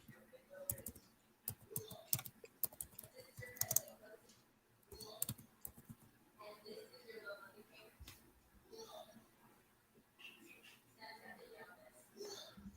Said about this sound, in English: we're just waiting for Mario to type